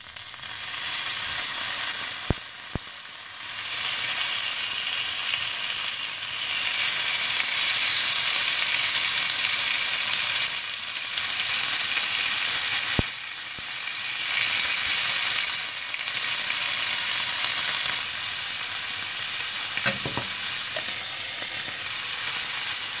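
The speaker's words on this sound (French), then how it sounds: "dans la poêle très chaud et sans besoin de l'huile" Beef lemongrass skewers sizzle steadily in a very hot pan with no oil, a loud continuous frying hiss broken by a few brief clicks and stirring knocks.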